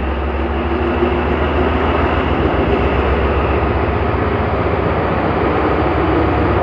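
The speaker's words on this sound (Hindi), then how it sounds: "ZCU 30-63-08 की पावर आज इलामाकबाल एक्सप्रेस को लीड करने के लिए मौजूद है।" A ZCU diesel locomotive idling at the head of the Allama Iqbal Express in Pakistan, giving a loud, steady engine rumble with a constant low drone and no breaks.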